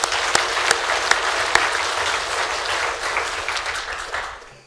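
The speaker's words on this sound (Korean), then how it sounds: "박수로 하나님께 영광 돌리기." A church congregation applauds in a dense, continuous wash of clapping with a few sharp, louder claps standing out, fading away at the end.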